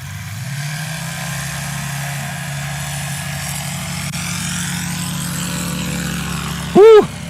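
A steady engine drone from an S7 light aircraft lifting off in a short takeoff at STOL competition practice, heard from a distance and holding even throughout, with a brief loud burst near the end.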